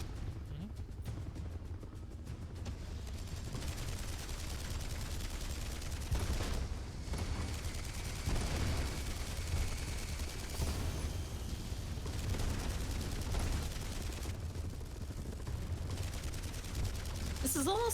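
Rapid turret gunfire in a video game, sustained and dense across the whole stretch, with steady loud bursts and a voice talking over part of it.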